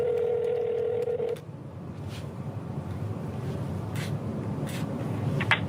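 A phone call being dialed, starting with a steady tone for a little over a second that cuts off abruptly, followed by a few faint brief beeps over a low background hiss.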